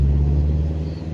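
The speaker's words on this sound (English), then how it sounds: "Oh my god, those cars are so noisy." Cars passing outside, heard as a steady low traffic rumble that fills a brief moment, loud and continuous with no talking.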